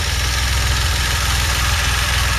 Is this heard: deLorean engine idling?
yes